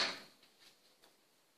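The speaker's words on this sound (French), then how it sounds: "J'ouvre la porte de l'appartement" An apartment door opens with a brief, fairly soft thump at the start, followed by a few faint clicks and light rattles as it swings, in a quiet indoor space.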